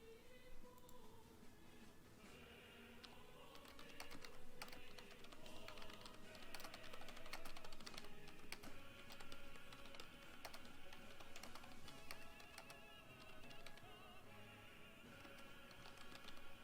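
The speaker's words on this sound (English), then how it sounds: "Ready for some typing ASMR again." Typing on a computer keyboard fills the stretch with quiet, rapid clicking and clacking of keys in uneven bursts, close to the microphone and soft overall, with no talk.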